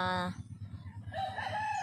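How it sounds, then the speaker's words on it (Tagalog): A rooster crows loudly near the start, followed by softer clucking and farmyard bird calls from fighting chickens on a rural farm, with faint background voices. "Marami po kaming chicken dito na panabong"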